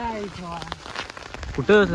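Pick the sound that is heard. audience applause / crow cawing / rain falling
rain falling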